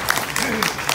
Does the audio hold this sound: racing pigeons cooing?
no